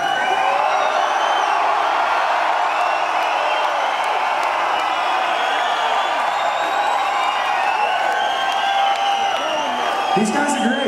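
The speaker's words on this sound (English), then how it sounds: "We just stopped so we could hear you cheer." A large concert crowd roars and cheers in Sydney, a dense, continuous wall of whoops and shouting that holds loud and steady throughout, with a faint voice near the end.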